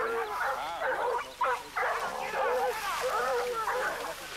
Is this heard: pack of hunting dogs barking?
yes